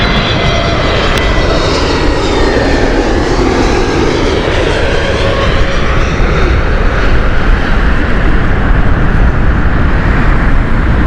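A DHL cargo plane takes off at Heathrow Airport, its engines making a loud, continuous, broad roar that holds steady for about eleven seconds with no talking.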